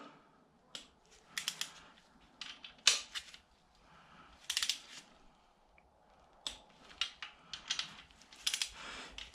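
A torque wrench ratchets in short bursts of sharp metallic clicks, pausing between rounds, while header bolts are tightened on a car engine with headers fitted without gaskets.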